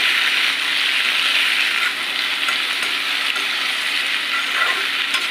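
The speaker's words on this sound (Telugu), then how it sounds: "టమాటాలు అన్నీ వేసి బాగా కలపాలి" Tomatoes being stirred into fried onions in a pan give a steady, close sizzle and frying hiss, with faint scraping from the stirring underneath and no voices.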